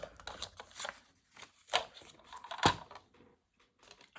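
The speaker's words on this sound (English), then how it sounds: "I have my trimmer. And we will just cut where I've put that notch." A paper trimmer slices through paper in a few short, sharp swishes and clicks, close and fairly quiet, separated by brief pauses.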